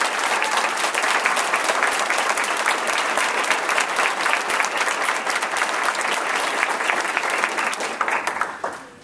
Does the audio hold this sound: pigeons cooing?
no